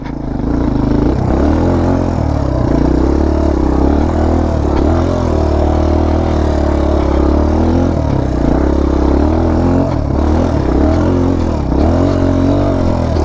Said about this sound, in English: this is first gear on this bike too